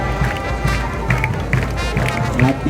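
An outdoor audience at the Rashtrapati Bhavan trumpet banner ceremony claps in a short, even rhythm, with regular beats mixed with hoof-like thuds at moderate distance.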